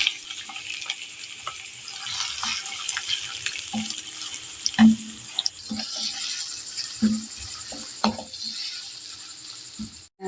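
Sliced onions fry in half a cup of hot oil in a pan, producing a close, continuous hiss and crackle, with occasional soft clinks and stirring knocks.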